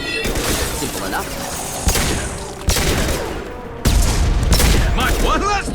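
Sniper fire in the Mass Effect 2 video game, with sharp shots landing in a loose rhythm of about three or four cracks over ongoing battle noise, each one followed by a roaring tail, and a voice talking alongside.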